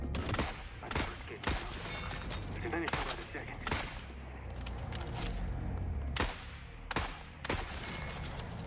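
Gunfire in the shooter game The Forever Winter comes as repeated loud sharp shots and short volleys, spaced every second or so over a busy battle background, with someone talking in between.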